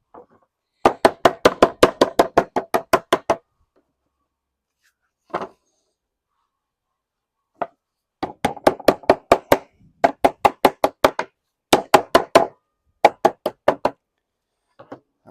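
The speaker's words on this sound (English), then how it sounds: "So I just need to knock up a 10mm flange on there now, which I'll use to weld down there." Sharp, rhythmic knocks of a tool dressing a 10mm lead flange on a window tray, struck in rapid bursts of about a dozen blows with short pauses between, close and loud with no talk.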